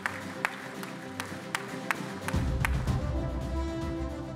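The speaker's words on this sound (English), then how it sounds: "I guess this applause comes from my students that are here" Audience applause at the IAC 2024 closing ceremony, beginning as scattered sharp claps and swelling into a fuller, steady round of clapping from the crowd.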